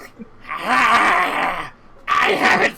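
A human voice imitates a fat, heavy-breathing cat's airy, breathy purr in two drawn-out groaning bursts, close and loud, with a short pause between them.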